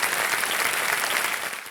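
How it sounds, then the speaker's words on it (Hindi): A studio audience on the Kaun Banega Crorepati game show bursts into loud, dense applause that fades slightly at the end of the short stretch. "एक बार जोरदार तालियां हो जाए अर्चना जी के लिए"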